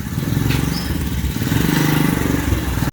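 A motorcycle engine runs steadily nearby with a rough, throbbing idle that holds at a constant loud level throughout.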